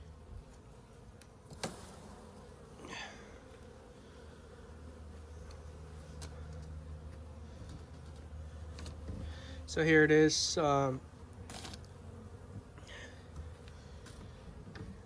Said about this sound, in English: We got plenty of bees down at the bottom box.